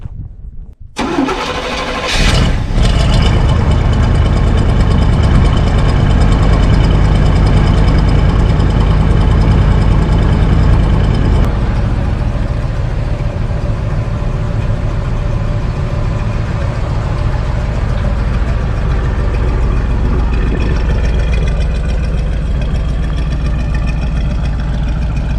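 An old truck engine on a cold start cranks briefly and catches, then settles into a loud, steady high idle with a high rumble that eases slightly as it runs, close by.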